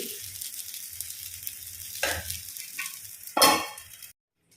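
Urad dal uttapam fries in a pan with a soft, steady sizzle and two louder bursts of hiss, then stops abruptly.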